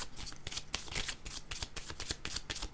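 Tarot cards riffled and shuffled by hand, a quick run of papery flutters and soft slaps, close and quiet with no voices.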